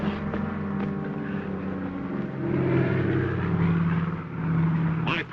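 An airplane engine drones loud and continuous, a steady rumbling hum that swells slightly partway through, with no voices.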